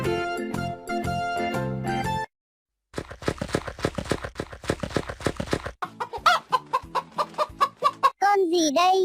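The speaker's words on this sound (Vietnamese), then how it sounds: "Con gà con." Chick sounds from a children's animal-sounds collection for learning animal names: a series of rapid, bright chirps and peeps, loud and close. They follow a stretch of music-like harmonic tones and a brief silence, with no talking.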